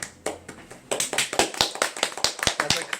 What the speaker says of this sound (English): That's a clap for Angel.